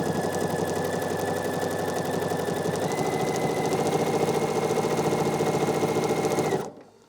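A sewing machine quilts through a quilt top with a cuddle fleece backing, humming steadily and loudly at close range for over six seconds, then cutting off sharply.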